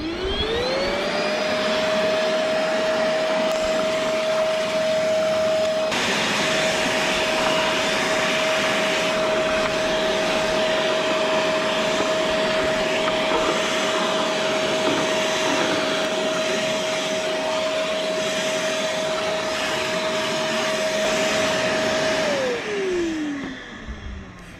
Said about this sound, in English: let's put this thing to some work, see how it handles the sawdust